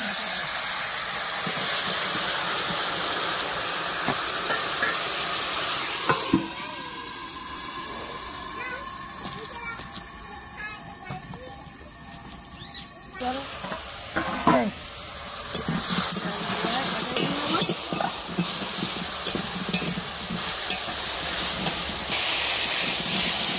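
Water poured into a hot pan of cooking silver carp sets off a loud, hissing burst of steam and sizzle that settles into quieter bubbling with scraping stirs and clatter.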